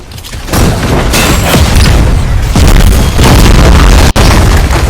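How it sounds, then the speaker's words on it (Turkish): Loud, repeated booming bomb explosions from the video game The Strongest Battlegrounds burst one after another, with crackling debris and a sharp cut near the end, dense and close. "Sonra bomba atışı yapacaksınız."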